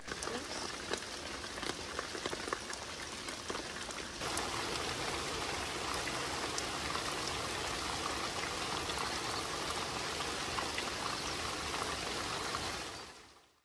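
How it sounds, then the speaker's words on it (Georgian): Heavy rain pours down steadily in the mountains of Svaneti, a dense, even hiss that holds at full strength for most of the stretch before cutting off at the end, with no voices. "ახლა წვიმამ დაუშვა, სასტუმროში უნდა გავიქცეთ"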